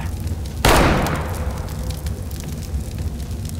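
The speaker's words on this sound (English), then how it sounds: "Fireworks! So it is his birthday!" A firework bursts in Counter-Strike with one loud, sudden boom that decays into a crackling hiss, then a steady background of game ambience.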